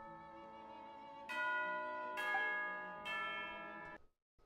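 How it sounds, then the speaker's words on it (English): In the Genshin Impact video game, a tea-time signal bell strikes three times, each bright clang ringing on with a sustained tone before fading into a brief silence. "is that the bell? Yes, that's the signal for tea time."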